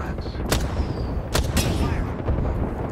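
Gunfire from guns in the video game Apex Legends, fired from range: a few sharp, separate shots cracking over a constant bed of busy game noise.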